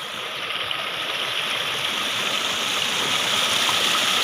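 River water flowing into a small canal feeding a traditional watermill, a steady, close rushing and gurgling stream with constant even loudness and no voices.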